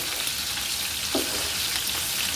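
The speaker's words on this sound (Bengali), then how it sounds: "মাছটা কিছুটা এভাবে করে করে উল্টিয়ে উল্টিয়ে দিতে হবে কারণ না হলে কিন্তু আবার এগুলো ভাস্তে ভাস্তে লেগে যেতে পারে কড়াইয়ের সাথে" Fish frying in oil in a wok makes a steady, dense sizzle with a bright crackling hiss that stays constant throughout, close and loud, with no voices.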